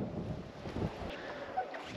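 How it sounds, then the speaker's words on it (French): Strong gusts hit the microphone outdoors while someone prepares to jump, a low rumbling buffet that rises and falls in brief surges, fairly faint, with no talking. "Le vent il m'emporte dans la direction opposée en fait."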